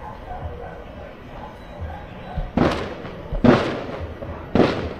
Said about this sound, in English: Fireworks, y'all. Just fireworks.